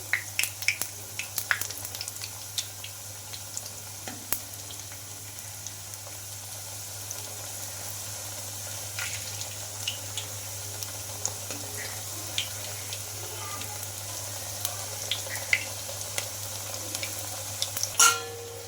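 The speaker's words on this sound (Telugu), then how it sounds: "ఇలా గోల్డెన్ కలర్ వచ్చే వరకు అయితే ఫ్రై చేసుకోవాలి" Wheat flour snacks fry in oil with a quiet, continuous bubbling sizzle, broken now and then by soft clicks and faint clatters of a utensil, over a low steady hum.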